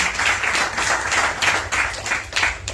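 Ashram students clap together to welcome a visiting family at a first-birthday celebration in a Lasalgaon orphanage and old-age home; a steady, rhythmic crowd applause fills the room, loud and close, with no talking.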